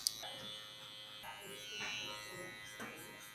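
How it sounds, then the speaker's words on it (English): Hair trimmer buzzing steadily while fading curly hair at a barbershop, close and continuous with slight shifts in pitch as the clipper moves across the head. "go in with my trimmer by itself"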